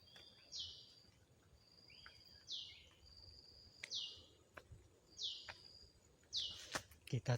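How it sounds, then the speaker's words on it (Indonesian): Birds call in a village forest at Kadu Agung, a single bright, sharp chirp repeating about every second and a half over a quiet insect hum, fairly distant, with faint rustling near the end. "Itu suara burung, gimana itu ya?"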